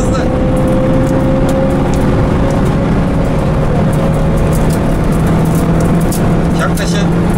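A Renault Megane RS roars at full throttle around Istanbul Park circuit, a loud, sustained engine drone with a steady rising tone inside the cabin, while a voice coaches over it.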